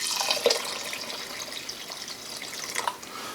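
Tap water runs into a kitchen pot during Instant Pot soup preparation, a steady hissing stream lasting a few seconds, fairly close and moderate in volume with no talking.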